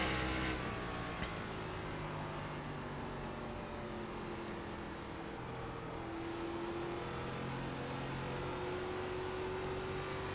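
A race car engine in iRacing's K5 Championship at Twin Ring Motegi drones steadily, its pitch rising and falling through the corners, loud and continuous with no voices over it.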